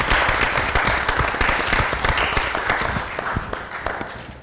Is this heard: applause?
yes